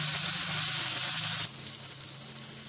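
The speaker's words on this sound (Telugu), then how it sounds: "వంకాయ ముక్కల్ని వేసేయాలి. వీటిని కూడా కొద్దిసేపు మగ్గనివ్వాలి." Brinjal pieces and onions fry in a pan, giving a close, bright sizzle that drops abruptly to a softer, steady hiss halfway through, with no voices.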